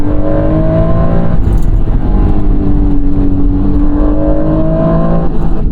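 A 1991 Acura NSX cruises with a loud, steady exhaust drone heard from inside the cabin, its low engine tones holding a constant pitch with a slight rise and fall throughout, with no voices.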